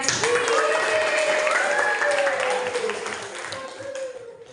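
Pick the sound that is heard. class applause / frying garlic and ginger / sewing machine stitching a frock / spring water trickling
class applause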